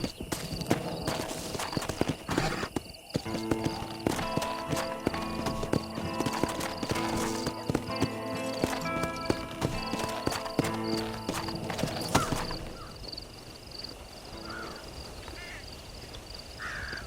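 Horse hooves clip-clop steadily through a busy game soundscape in the Western open-world game Red Dead Redemption, with crows cawing and a horse whinnying, the hoofbeats thinning out toward the end.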